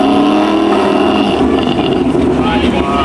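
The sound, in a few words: race car engine revving, possible burnout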